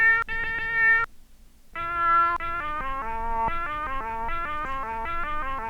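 Cat meow samples played as pitched notes on a Teenage Engineering PO-33 pocket sampler, a melodic sequence of clear tonal meows with one brief pause, then a steady rhythmic run of arpeggiated meow notes, close and alone.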